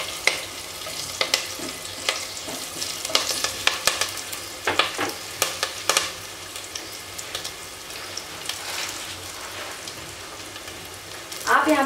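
Green chillies fry and crackle in a pan, with sharp spatula scrapes and taps coming in bursts over a steady sizzle. A louder clatter comes near the end, and there is no talk.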